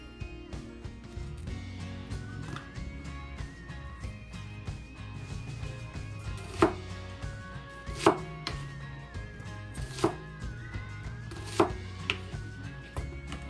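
A knife chops an onion cut through the middle on a cutting board, giving steady, soft, rapid taps that break into several sharper, louder knocks spaced about every one to two seconds, with no talk.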